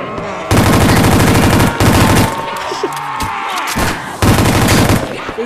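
Automatic gunfire in a zombies video game, loud close bursts of rapid shots separated by short gaps, with clatter and scattered effects between the volleys.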